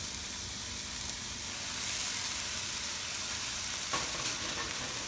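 Rice sizzles and fries in a hot pan with shrimp paste for binagoongan fried rice, a steady close crackling hiss with a brief stir-clatter near the four-second mark.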